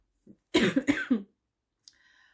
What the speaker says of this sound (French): Il fallait que je tousse, c'est évident.